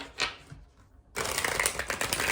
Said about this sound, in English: I'm going to just do one final shuffle, and I will lay the cards